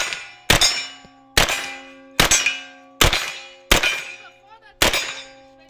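Bullets strike a steel target in a run of six loud, ringing metallic clangs spaced roughly a second apart, each leaving a bright decaying ring, with no talk over them.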